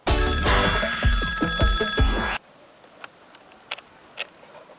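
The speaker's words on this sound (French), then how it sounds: "je vais maintenant appeler mon ami personnel, Mamadou." A telephone rings loudly and steadily for about two seconds while a call is being placed, then stops abruptly, leaving faint sparse clicks and tiny noises in near silence.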